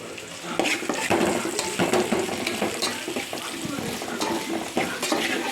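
Onions with cloves, star anise, cinnamon bark and poppy seeds fry in a pan for a country chicken curry, with a steady sizzle broken by frequent scraping and clinking stirs of a spoon against the pan.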